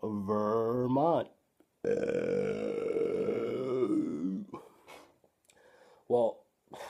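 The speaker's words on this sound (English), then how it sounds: "When you have a good burp like that, you know you're drinking on a damn good beer." A loud, drawn-out burp follows a sip of a Vermont double IPA, rumbling for about a second before a longer, gravelly eructation and a few shorter throaty bursts, close to the microphone.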